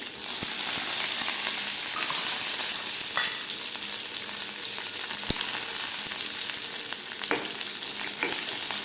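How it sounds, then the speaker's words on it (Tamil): Shallots and curry leaves sautéing in a pan for banana-flower kootu, a loud, steady frying sizzle with a few scattered stirring clicks and scrapes. "வெங்காயம் நல்லா வதங்கட்டுங்க சின்ன வெங்காயம் தான் சேர்த்துருக்கேன்"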